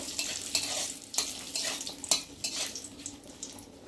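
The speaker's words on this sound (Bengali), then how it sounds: "তারপর দেবো কটা শুকনো লঙ্কা দিয়ে একটু ভালো করে খুঁতে দিয়ে নেড়ে দেব।" Dry red chillies and bay leaf fry in hot oil for a khichuri tempering, a steady crackling sizzle with repeated scraping stirs of a spatula against the pan, close and alone without talk.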